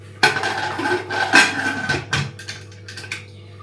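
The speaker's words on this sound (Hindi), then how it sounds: "यहाँ पे बर्तन धुल गए, सारा काम हो गया।" Dishes, pots and pans being washed, with sharp metallic clinks and clatters of cutlery and cookware coming in irregular bursts close by, over a steady low hum.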